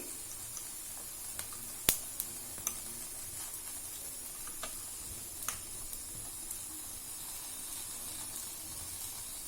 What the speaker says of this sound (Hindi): इन तीनों को मैं चिमटे से पकड़ लूंगी और इन तीनों को इसमें सेक लूंगी